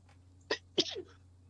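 A sharp two-part sneeze, a quick indrawn burst then a louder explosive release, fairly close over a quiet room with low steady hum.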